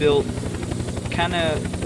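Helicopter in the video game Unturned, a close, steady rhythmic rotor chop with high whining tones sweeping over it, while a voice talks throughout.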